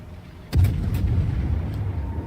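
Naval guns in World of Warships fire one heavy, close boom, and a deep rolling rumble trails on behind it with a couple of faint cracks, over low background noise.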